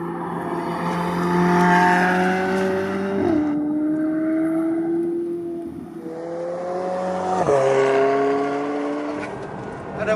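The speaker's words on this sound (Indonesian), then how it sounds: "Di balik kemerduan suara knalpotnya ada suara desingan turbo." A sports car with a centre-mounted driver's seat pulls hard through the gears, its exhaust note climbing with a whistling turbo whine, then dropping at each shift with a blow-off valve hiss, loud and close inside the car.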